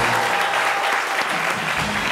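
Studio audience claps and cheers loudly for a performer on a French midday TV show, a dense, steady wall of applause filling the whole stretch.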